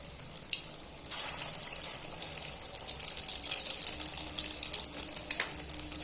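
Egg-coated potato snacks are dropped into hot oil, and after a second of quiet a bright, crackling sizzle begins, growing denser and louder with scattered pops, with nobody speaking.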